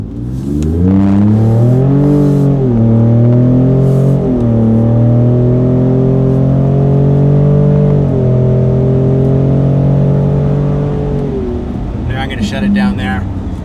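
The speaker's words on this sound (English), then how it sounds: "I'll give you a quick rip with wide open throttle and see what this system sounds like." A Ford Raptor's V6 EcoBoost, fitted with an MBRP 3-inch cat-back dual rear exit exhaust, revs loudly up close at wide open throttle. It rises, holds a deep droning roar for about ten seconds, then drops away.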